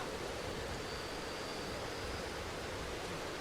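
Steady rain in the horror survival game Darkwood, an even, dense hiss of falling water that holds constant throughout with no breaks and no voices.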